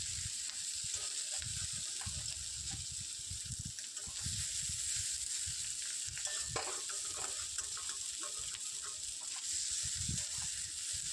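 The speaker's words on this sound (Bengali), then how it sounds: "সর্ষের তেলটা ভালো করে গরম হয়ে গিয়েছে, দেখো হালকা ধোঁয়া উঠে গিয়েছে। তো তার মধ্যে আমি চিংড়ি মাছগুলো দিয়ে দিয়েছি।" Prawns fry in smoking-hot mustard oil, giving a steady close sizzle throughout. Irregular low knocks of stirring and handling sound over the frying.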